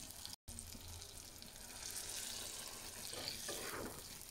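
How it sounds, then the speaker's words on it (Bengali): Beef jhura bhuna hisses and sizzles steadily in a pan, and as broth is poured in, a soft gurgling splash and louder crackling rise near the end. "এবার আমি একটু ঝোল দিব"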